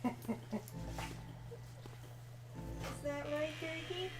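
Gertie, a dog wearing a costume, gives a few short whimpers and yips, then a drawn-out whine, close by and faint, over a low background hum.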